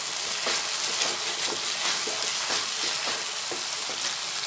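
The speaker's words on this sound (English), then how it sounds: "Then ginger garlic paste. Fry it well." Ginger garlic paste fries in oil for an anchovy fish curry, giving a dense, even hiss with regular soft stirring pulses roughly every half second and no talk.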